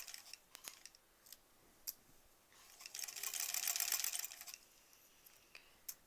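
A sewing machine stitches fabric on a bunny stuffed toy in a short slow run of about a second and a half, surrounded by faint clicks and handling of fabric and pins, quiet and close, no talk.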